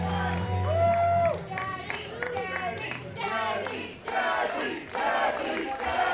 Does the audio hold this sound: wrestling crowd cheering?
yes